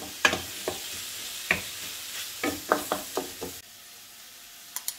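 A spatula scrapes and knocks in a frying pan as spices, including paprika, are stirred: about ten quick, sharp strokes over a low sizzle, close and without speech, then a brief lull and two final taps.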